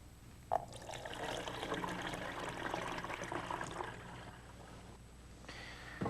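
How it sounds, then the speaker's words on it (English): Fresh cold water pours into the 96-ounce tank of a 1998 Starbucks Barista home espresso machine, a steady close trickle and splash running for several seconds with a brief knock near the start. "we're going to need to fill the water tank, all 96 ounces, with fresh,"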